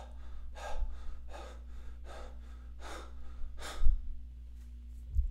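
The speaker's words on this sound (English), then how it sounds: "You should be breathing, openly, freely, and continuously, like you're jogging" A person breathes heavily while doing an exercise repetition with an oxygen deprivation mask, about eight strong, evenly spaced breaths over a steady low hum, close and alone without talk.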